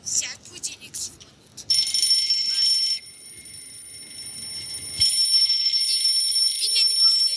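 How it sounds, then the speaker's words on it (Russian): An alarm clock rings with a steady high electronic tone that starts abruptly and continues loudly, briefly pausing before resuming, while faint voices and rustling sit underneath. "Сядь, будильник звонит."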